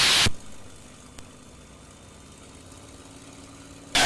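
A P-51 Mustang's engine runs steadily at a low idle, a continuous rumbling drone with an even, throbbing texture, bracketed by sharp bursts of noise at the start and end.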